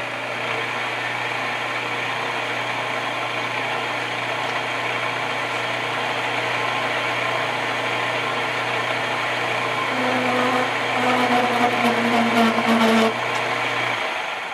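A milling machine spins at low RPM with a steady, loud mechanical drone and hum, continuous throughout with a slight rise and extra rattle near the end; no voices.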